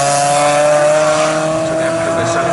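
A racing car, the number 53 car, passes during trackday qualifying at the Snetterton circuit, a loud sustained engine drone holding a steady pitch with a slight shift as it goes by.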